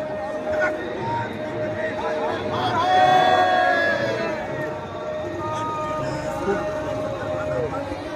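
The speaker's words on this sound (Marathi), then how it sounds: "यावर्षी रिकॉर्ड ब्रेक अशी ही महाकुंभची गर्दी आहे" A large crowd murmurs at the Mahakumbh festival by the river confluence, a steady hubbub of distant voices beneath someone talking close by.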